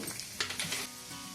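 Dried red chillies sizzle in about half a litre of hot oil for a drumstick and tomato pickle: a short, close burst of crackling hiss that quickly settles into a low, steady fry.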